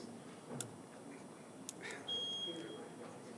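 A timer being reset and set makes a couple of faint button clicks, then one steady high electronic beep lasting under a second, quiet against the hum of a room.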